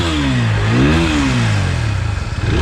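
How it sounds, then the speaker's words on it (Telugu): A 2025 TVS Apache RTR 160 4V special edition motorcycle engine is revved loud and close, rising and falling once before settling into a steady, throbbing idle. "సో ఒకసారి ఇంజన్ నోట్ వినండి"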